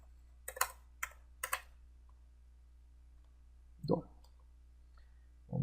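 Typing on a computer keyboard: three short bursts of quiet key clicks close together, then a pause and a couple of softer taps in a quiet room.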